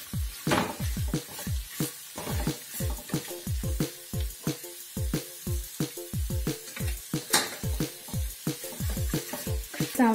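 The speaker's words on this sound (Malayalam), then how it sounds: "അപ്പം ഇതെല്ലാം നമുക്ക് നന്നായിട്ടങ്ങ് വഴറ്റി കൊടുക്കാം." Onions and salt sautéing in a pan, with a soft sizzle under a quick, repeated series of close spatula scrapes and knocks against the pan.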